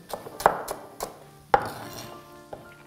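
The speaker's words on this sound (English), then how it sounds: "First, I'm bottoming off the sprouts, cut them in half, and then slicing them." A knife slices Brussels sprouts on a cutting board, sharp distinct chops landing irregularly, a few loud thuds among lighter taps, close and alone.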